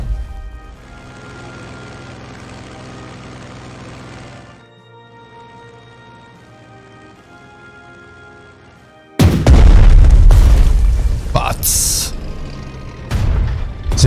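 Artillery fire in the Strategic Mind: Blitzkrieg WWII strategy game: after a quiet humming stretch, loud booming explosions and bursts crash in for the final few seconds, one after another.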